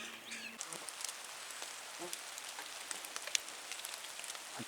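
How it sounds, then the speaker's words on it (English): Driving rain falls steadily on a rural road in turkey country, a dense continuous hiss with scattered sharper drop patters, close and loud throughout with no speech. "this rain's really driving"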